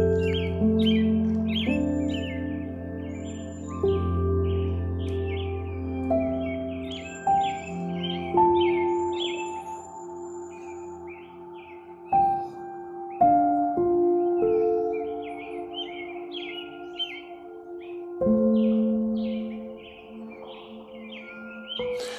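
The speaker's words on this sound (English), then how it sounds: "now that's a lot of birds" Busy birdsong with many overlapping chirps and whistled calls, steady and fairly close, continuing throughout without any talking.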